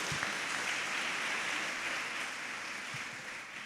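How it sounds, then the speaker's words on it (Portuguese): A church congregation claps in praise during a Sunday morning service, a dense, steady wash of applause filling the hall at even loudness from start to finish, with no voices standing out. "Um aplauso ao Senhor."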